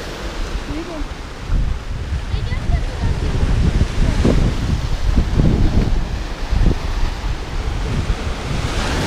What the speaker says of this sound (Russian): Волны здесь очень большие.